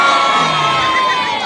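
A large live audience cheers and whoops loudly for Tom and Jerry at a comedy show, a dense, sustained roar with children's shouts mixed in.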